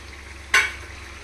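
Green chillies drop into a hot kadai pan while cooking kadai biryani, giving one brief, sharp burst of sizzling that quickly settles into a faint, steady frying hiss.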